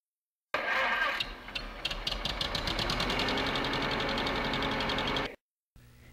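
A vehicle engine from the Voyager Golden Record sound collection cranks with rapid chugging pulses, then catches and runs as a steady, loud, rough mechanical roar for several seconds before it cuts off abruptly.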